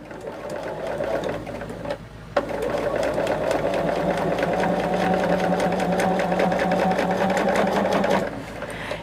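A sewing machine runs close by with a steady mechanical whir. It pauses briefly at about two seconds, then hums on evenly before stopping near the end.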